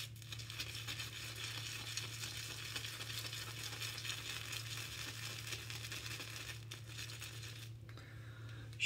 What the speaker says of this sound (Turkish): Şimdi fırçamıza sabunumuzu süreceğiz ve bayağı bir yüklüyorum şu anda.